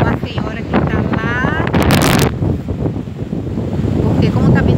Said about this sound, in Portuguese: como tá ventando muito, o mar tá bem revolto